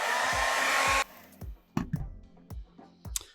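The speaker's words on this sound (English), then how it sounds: "Now I'm going to speed this up a little bit with the hair dryer." A hair dryer blows loudly and steadily for about a second while drying a helmet pattern piece, then cuts off, leaving a few soft knocks and handling sounds.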